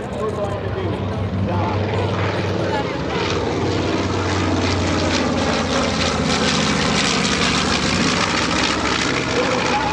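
Warbird aircraft flying low over an EAA AirVenture airshow, a loud continuous propeller-engine roar that holds steady throughout, with crowd noise and an announcer talking over it.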